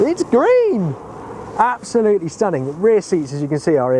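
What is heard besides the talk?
No everyday noise stands out behind the speech.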